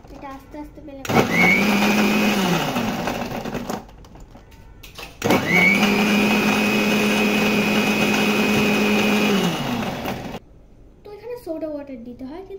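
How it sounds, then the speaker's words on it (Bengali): Blender crushing ice for a mango drink, running loud and steady in two long bursts with a brief pause between them; a voice speaks faintly before the first burst and again after the second. "তারপর এটা আস্তে আস্তে ব্লেন্ড করব।"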